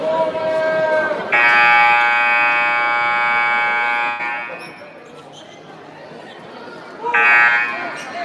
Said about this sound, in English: You got the buzzer.